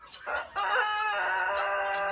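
A rooster on a farm in Denizli crows a long, drawn-out cock-a-doodle-doo, loud and close, preceded by a couple of short clucking notes, with the sustained harmonic crow ringing out alone.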